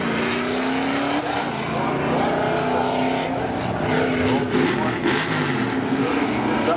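Spectator drag racing cars at Seekonk Speedway, loud engines roaring and revving steadily as they accelerate, with a busy mix of engine tones throughout.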